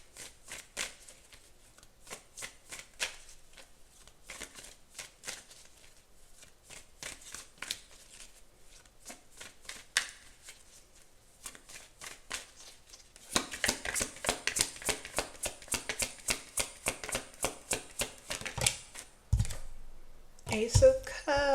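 A tarot deck is shuffled close by in repeated crisp riffles and flicks. The sound grows louder and denser in the second half, and a voice talks over it at times.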